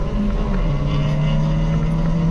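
A Mazda Miata engine on a race track revs hard, a loud sustained drone whose pitch slides and climbs as it accelerates, with no voices.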